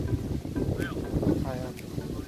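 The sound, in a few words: strong wind blowing on the microphone at Waterton National Park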